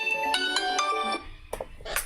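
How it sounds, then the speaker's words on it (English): A mobile phone ringtone plays a bright, repeating melodic pattern of tones, then cuts off, followed by a few soft clicks and rustles. "Sorry, my phone's going off."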